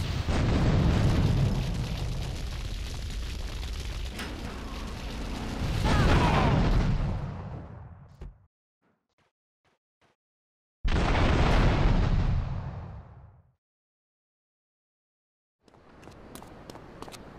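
Grenades blow up one after another in the game GTA III, throwing out loud, close booms with long rumbling tails and short silent gaps between them.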